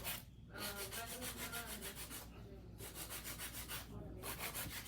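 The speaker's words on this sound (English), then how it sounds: "All this hand filing is doing is bringing out the shape a little bit more." Rhythmic rasping strokes of a hand file shaping an acrylic nail, repeated close back-and-forth scraping in bursts separated by brief pauses, no talk.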